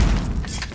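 A Call of Duty grenade explodes in one short, heavy boom with a dense low rumble and broadband crackle that stays loud for the whole moment.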